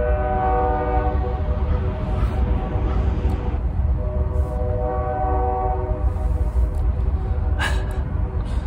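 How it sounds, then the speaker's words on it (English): A train rolls past close by with a loud, constant rumble of wheels on rail, while a long, sustained horn blares over it, fading partway through and then sounding again. "This train keeps going by."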